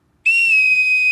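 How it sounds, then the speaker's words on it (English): A single shrill, sustained boatswain's whistle blast, piercing and close, held steady for about a second. "Here we go. Boatswain whistle. Are you ready?"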